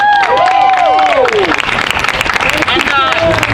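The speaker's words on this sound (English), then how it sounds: "Let's get another round of applause for him." Crowd applause at a political rally to protect election results, a dense wash of clapping and cheering filling the space steadily throughout, with a voice calling out over the first moments.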